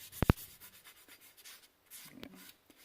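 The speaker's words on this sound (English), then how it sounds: "I'm in the garage, wet sanding a winch" A Warn 9.5ti winch is hand wet-sanded in a garage, making soft, intermittent rubbing strokes after two sharp knocks at the start, quiet and close, with no talking.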